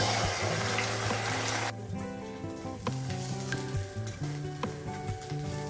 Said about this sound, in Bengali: ডিমের অমলেট বানিয়ে নেব।